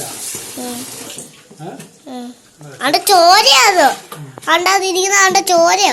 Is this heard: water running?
yes